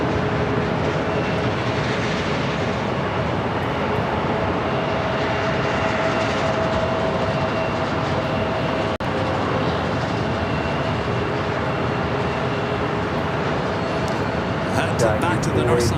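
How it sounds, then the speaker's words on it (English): A Boeing Dreamliner rolling down the runway at LAX makes a sustained, distant jet engine roar, broad and steady. A faint tonal hum sits over it, and a person talks over the sound. "the On-the-Pond Airways Dreamliner heading back to Tokyo Narita, now rolling down 24 right"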